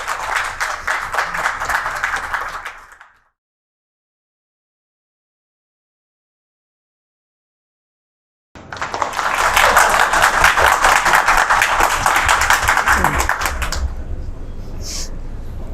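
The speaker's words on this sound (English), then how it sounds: "Let's have a round of applause for him," Audience applause on a talk show, dense clapping for about three seconds, then silence, then a longer, louder round of sustained clapping that tapers toward the end.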